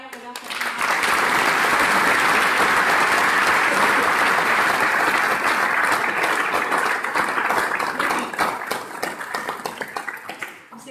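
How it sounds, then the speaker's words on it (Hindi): Loud, sustained audience applause fills a motivational talk hall, a dense wash of clapping that swells quickly, holds steady for several seconds, then thins out near the end. "जोरदार तालियां बजा सकते हैं।"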